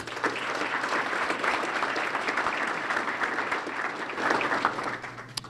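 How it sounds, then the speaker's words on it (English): A round of audience applause at a local hero awards ceremony, steady and even throughout, with a slight swell toward the end and faint voices in the background. "if we could give Frank a round of applause"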